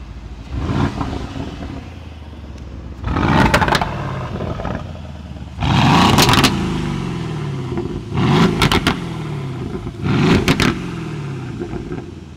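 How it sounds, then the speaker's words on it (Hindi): An Aston Martin engine revving in repeated bursts, about five sharp throttle blips separated by idling pauses, loud and close with no talk. "गाड़ी का आवाज़ सुनो"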